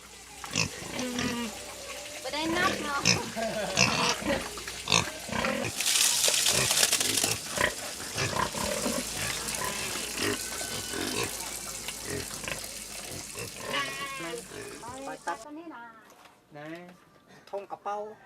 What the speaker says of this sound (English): They're taught how to tend domestic animals, how to raise poultry and pigs.